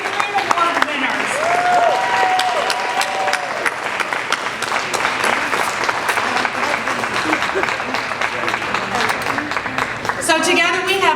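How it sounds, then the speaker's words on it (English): A crowd applauds award finalists and winners at a community honors event, sustained clapping throughout with a voice speaking over it. "let's give one last round of applause"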